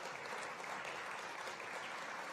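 Warm applause from the audience at a closing keynote of a tech conference in New York, steady and moderately distant, a continuous patter of many hands without speech.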